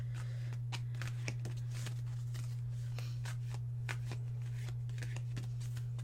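Oracle cards are shuffled by hand to draw an angel card, a run of quick, crisp riffling slaps repeated in short bursts at close range over a low steady hum, with no talking.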